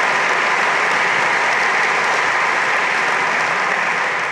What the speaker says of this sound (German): Applaus für diese zukunftsweisende Investition.